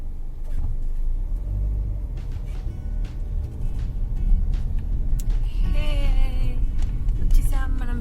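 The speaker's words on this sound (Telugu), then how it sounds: "traffic jam" Road traffic near a beach in Muscat, Oman: a steady low rumble of car engines in a jam, with passing vehicles and horn-like tones rising toward the end, continuous throughout.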